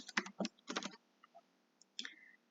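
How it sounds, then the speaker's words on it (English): Keys clatter on a computer keyboard in quick bursts of typing, quiet and close, with a short pause before a last few taps. "Now I'm just going to type in the tutorials part."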